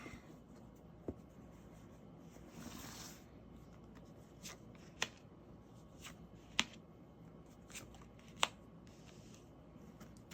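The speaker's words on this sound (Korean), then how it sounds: "카드를 섞고 함께 보겠습니다." Tarot cards being shuffled by hand, a soft continuous rustle with a few sharp slaps and snaps spaced out across the stretch, close and quiet with no talking.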